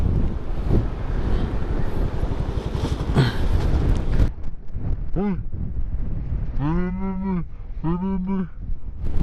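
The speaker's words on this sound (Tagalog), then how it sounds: "Grabe, ang lakas ng hangin" Strong wind gusts hammer the microphone on a motorcycle ride at Malico, San Nicolas, a loud rumbling roar for the first half, followed by calmer stretches where cattle low nearby several times.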